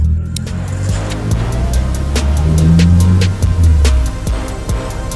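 A Nissan S14 Silvia just converted to a manual gearbox drives off with a loud, close engine drone that rises and dips, while sharp rattles and clicks tick steadily over it.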